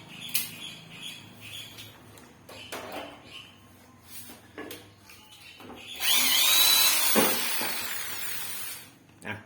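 An electric drill whirs in short bursts while sharpening a knife, then a longer high-pitched spinning run, with clinks of metal parts between, fairly close.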